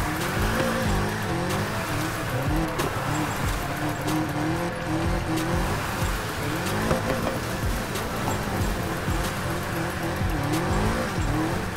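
BMW M3 E46 drift build in the video game Need for Speed Heat, its engine droning loudly and continuously under long wavering tire squeals as the car slides through corners, with no talk.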